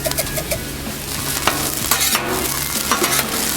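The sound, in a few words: food crisping on Blackstone griddle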